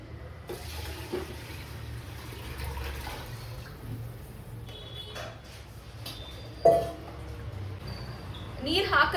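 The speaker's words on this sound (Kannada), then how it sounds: "ಸೊ ನಾವು ಇದಕ್ಕೀಗ ನೀರು ಹಾಕ್ತಿದ್ದೀವಿ." Water splashes and pours into 1 kg of rice for masala ghee rice, a moderate, uneven gush with a sharper splash partway through, over quiet kitchen background.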